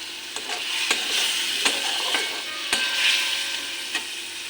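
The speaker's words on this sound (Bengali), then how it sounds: "এখন একটু জল দিয়ে একটু ভালো করে কষে নেব" Vegetables sizzling in a pan while a utensil scrapes and stirs, giving several sharp knocks at irregular intervals.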